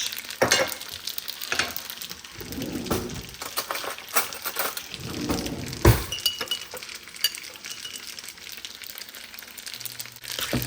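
Noodles are stirred and tossed in a pan, with metal scrapes, clinks and knocks from the utensil rising over a light sizzle in an uneven rhythm, all close by and with no talking.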